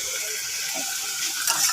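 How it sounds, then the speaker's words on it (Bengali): Onion and tomato fry in a pan with turmeric, making a steady, even sizzle close by with a few faint stirring clicks and no talking. "পেঁয়াজ টমেটোটা ভাজা হোক"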